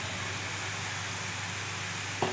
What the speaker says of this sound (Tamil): தக்காளி போட்டு கொஞ்ச நேரம் வதக்கணும்